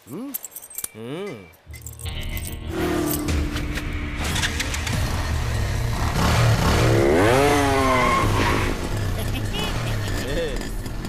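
A motorcycle engine revs and rattles close by, rising and falling under loud voices and action-movie background music in a Hindi-dubbed South Indian film scene.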